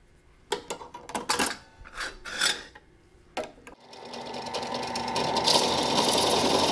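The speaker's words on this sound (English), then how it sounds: "I'm just going to go through progressively larger drills until this is the right size." A drill bores out a cast iron candlestick in several separate grinding, rasping bursts. It then settles into one sustained, louder drilling run that builds toward the end, all heard close up with no talking.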